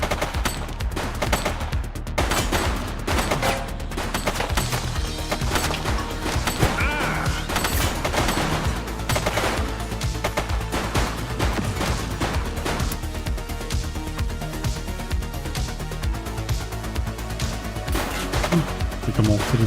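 Video-game gunfire in The Precinct crackles almost continuously for about twenty seconds, dense shots and bursts layered with a busy game soundtrack, with occasional voices talking over it.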